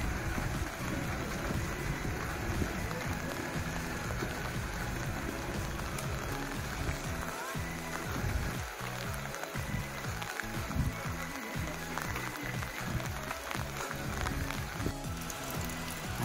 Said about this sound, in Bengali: আজ এখানে যে হারে বৃষ্টি পড়ছে মনে হয় না আর কিছুই দেখা যাবে